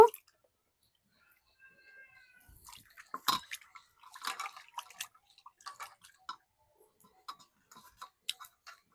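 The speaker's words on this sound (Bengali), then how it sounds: "এখন আমি জলে ধুয়ে নেব" Cut bitter gourd and potato pieces are rinsed in water, giving soft intermittent splashes, drips and light clinks in quick irregular bursts with quiet gaps between them.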